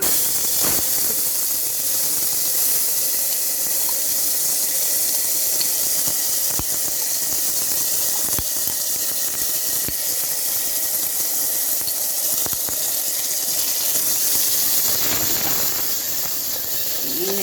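Ground ginger, shallot, garlic and cumin paste sautéing in a pan for Nagercoil-style rasam: a loud, continuous hissing sizzle filling the whole stretch, with a few brief stirring clicks and knocks on top.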